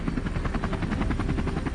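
A helicopter flies close overhead, its rotor beating in a fast, even rhythm over a loud, steady engine drone.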